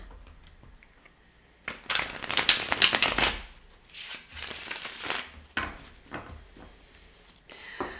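Tarot cards being shuffled by hand, with several close, crisp bursts of riffling and sliding separated by short quieter gaps.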